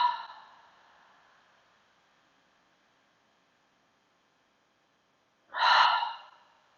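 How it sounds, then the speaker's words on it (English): Deep nasal breathing during a yoga session: a breathy exhale at the start fades out, then after a long quiet gap a second loud, rushing breath arrives close to the microphone, with no talking. "And for 3 breaths, inhale deeply through your nose. Exhale, sigh."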